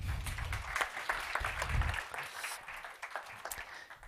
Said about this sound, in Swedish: Ge en varm applåd till Håkan Osan.